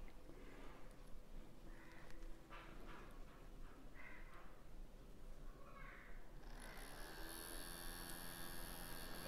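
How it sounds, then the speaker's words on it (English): A small electric motor runs on a homemade carbon-ion battery rated around 6–7 V and 400 mA, giving a faint, steady electric hum that turns into a clearer, thin whine in the last few seconds. "you can see the motor running"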